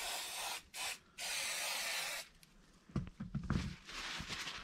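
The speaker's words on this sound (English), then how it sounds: "Just spray it on." Label remover sprayed from a bottle onto an RC car chassis to lift duct tape residue, three close hissing bursts of different lengths followed by handling and rubbing noises.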